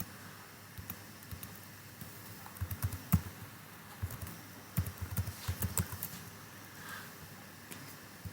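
Keys of a computer keyboard are typed in short irregular bursts, close and fairly quiet, with soft clicks spread across several seconds and no talking.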